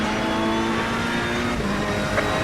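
A race car engine drones steadily at high revs through an on-board lap of Kyalami in Assetto Corsa Competizione on PS4. The loud, continuous roar holds nearly level throughout, with slight pitch shifts and no voices.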